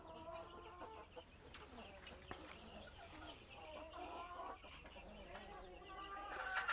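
A shed full of desi gavran chickens keeps up constant clucking and chattering, many birds calling over one another at moderate distance in a steady busy din.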